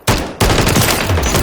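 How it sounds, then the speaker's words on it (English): Sustained automatic fire from a G36 rifle in Call of Duty Modern Warfare III, a rapid loud burst that breaks off briefly, then resumes as dense continuous shots at a high rate of fire. "You're around 850 to 900 rounds per minute with a G36."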